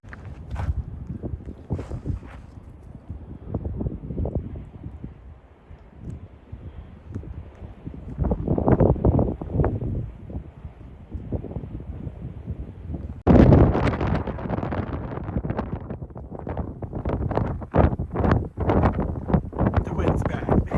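Gusty wind buffets the microphone on a Pacific Crest Trail hike, rising and falling in uneven surges with footstep-like crunches and rustling throughout, growing stronger in the second half.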